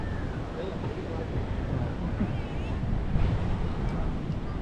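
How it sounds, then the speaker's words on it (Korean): Strong wind buffets the microphone beside rough ocean surf at Trincomalee's fort on the Sri Lankan coast, a steady, loud roar of wind and crashing waves throughout. "바람이 세네요 확실히. 그래서 파도도 꽤 세네."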